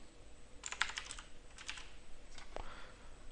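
Someone types code on a computer keyboard in three short bursts of quiet, close keystrokes, with brief pauses between them and no voice.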